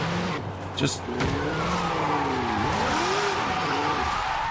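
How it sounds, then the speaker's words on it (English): A car drifts in a racing game, its tires squealing in long sliding arcs over a steady, close engine drone, with a short sharp knock near the start. "And it wants to drift."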